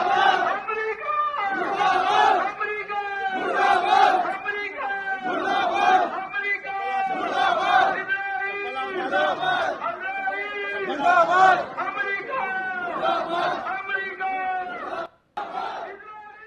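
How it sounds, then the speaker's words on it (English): A large protest crowd in Hyderabad chants slogans in unison, with loud rhythmic bursts of many voices repeating every second or two, followed by a short pause near the end. "with large crowds now raising slogans"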